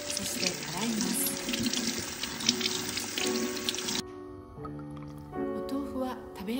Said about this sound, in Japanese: 今日は絹ごし豆腐を使います。 まず水を切ります。 そして洗います。